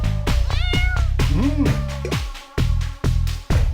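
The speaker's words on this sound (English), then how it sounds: "Aha, kitty!" A cat meows loudly and repeatedly at close range, several drawn-out meows with rising and falling pitch, followed by short sharp calls.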